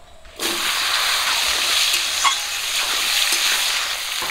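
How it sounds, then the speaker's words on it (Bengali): Potatoes and taro root dropped into hot oil left from frying fish sizzle loudly and steadily, a close, continuous crackling hiss that starts abruptly and holds with faint spatters throughout. "মাছ ভাজা তেলেই আমি দিয়ে দিচ্ছি আলু আর কচু।"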